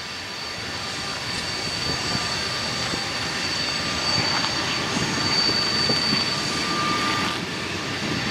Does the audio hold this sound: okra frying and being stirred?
no